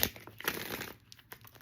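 A tarot card deck being shuffled by hand, giving brisk papery riffles and crinkling snaps in short uneven bursts with brief pauses between, close to the microphone and with no talk over it.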